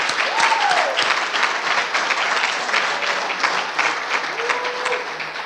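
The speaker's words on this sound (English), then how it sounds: "Please give them a round of applause for all their hard work." At a Westmont community awards banquet, a roomful of guests breaks into sustained applause, dense steady clapping that holds at full strength throughout with a few faint voices underneath.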